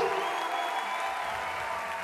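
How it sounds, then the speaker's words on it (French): A crowd at a three-on-three breakdance battle final applauds loudly, a dense, even roar of clapping and cheering that holds steady throughout, with no talk. "Des gens l'applaudissent bien fort, les danseurs, l'organisation et le public."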